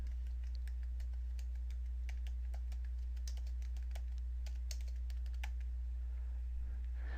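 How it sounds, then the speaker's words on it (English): Steady typing on a computer keyboard while entering text in a Microsoft Word document, a quick, even run of light clicks over a constant low hum, with no voices. "Type your instructor's title and full name."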